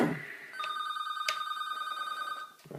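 A steady electronic ring from an office telephone in a nearby room, sustained and fairly faint, with a click partway through and brief room noise at the start and end.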